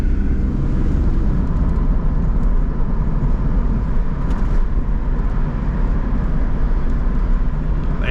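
A Knight Rider car replica cruises along with its turbine engine running, a loud, steady roar and whine that holds constant throughout without breaks.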